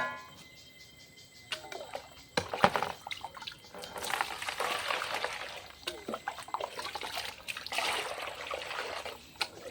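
Liquid pours and trickles in a steady stream for several seconds, with splashy bursts and a few clinks, while a voice talks over it.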